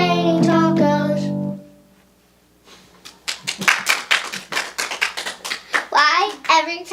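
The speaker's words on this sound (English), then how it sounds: "They did clap, Connor." Children clap their hands in a quick, uneven burst of sharp close slaps, following a stretch of singing and mixed with excited kids' voices.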